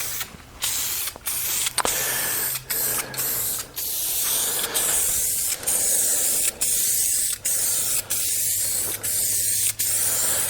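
Aerosol paint sprayed onto a fresh iron engine block for a 1970 Mach 1 351C build, sounding as a steady close hiss across the whole clip, broken by short pauses between passes.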